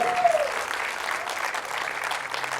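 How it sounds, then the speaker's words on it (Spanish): A church congregation breaks into loud, sustained applause in praise of God during a sermon, the clapping dense and even throughout with a brief vocal cry at the start. "alguien den un fuerte aplauso, alabe a Dios por eso"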